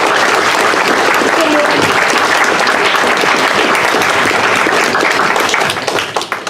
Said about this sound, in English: we should give them a round of applause as well